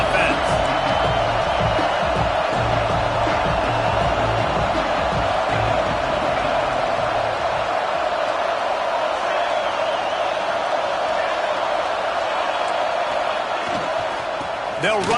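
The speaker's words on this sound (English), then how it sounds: "This crowd trying to make life miserable for this offense." Stadium crowd in a college football video game between USC and Notre Dame, a continuous roar of cheering and whooping with scattered thumps, heard under steady commentator talk.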